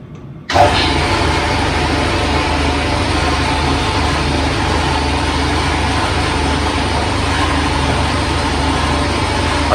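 A workshop air compressor starts up and runs steadily and loudly, a continuous mechanical drone with a constant hum held for the whole stretch, no voices.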